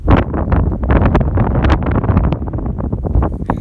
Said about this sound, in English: I apologize if there's wind noise. It's a little windy today